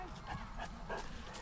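A dog in Dracena Park, Piedmont, gives a few soft, short yips and whimpers at a moderate distance, faint against quiet outdoor background.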